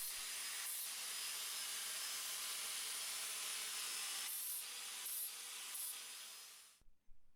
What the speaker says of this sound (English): I'm beveling the edges on both pieces